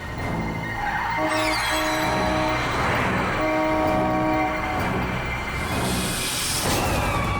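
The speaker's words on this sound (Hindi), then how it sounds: "हॉर्न पे हॉर्न मार रहा है।" Loud, sustained blaring horn tones sound repeatedly over a steady rumble of traffic, with shifting pitches and a brief squeal near the end.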